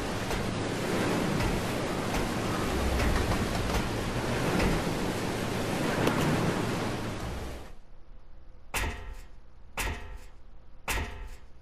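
Heavy rain pours in Resident Evil 0 as a dense, steady hiss for about eight seconds, then cuts off, leaving a few short separate bursts of noise near the end.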